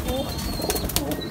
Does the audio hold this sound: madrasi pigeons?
yes